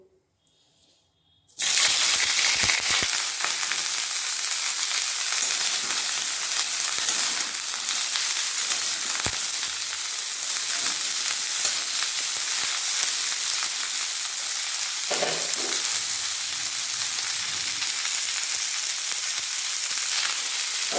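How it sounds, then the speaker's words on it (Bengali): Broccoli dropped into hot mustard oil in a wok sets off a sudden, loud, close sizzle that keeps up a steady hiss for about twenty seconds with no talking. "কড়াইয়ে সর্ষের তেল দিয়ে দিয়েছিলাম ব্রোকলিটি ভাজার জন্য"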